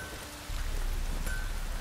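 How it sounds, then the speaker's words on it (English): Steady rain downpour in The Witcher 3 on PS4, an even close wash of falling drops that swells after the first half second and holds without a break. "Midges were biting on account of this downpour."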